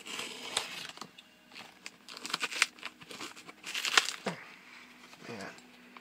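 Plastic wrap and cardboard packaging on a vinyl record being sliced and torn open, with crinkling, tearing and crunching bursts close by over about six seconds, faint talk now and then.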